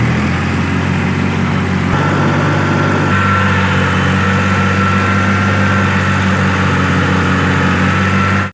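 A tractor engine idles steadily in a wheat field during sowing, a loud close continuous low rumble holding a constant pitch throughout without pauses.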